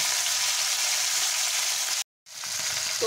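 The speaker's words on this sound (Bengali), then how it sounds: "তোপসে মাছগুলোকে প্রথমে আমি ফ্রাই করে নেব" Topse fish frying in hot oil, a dense continuous sizzle close to the mic, broken by a brief silent gap before the crackle resumes.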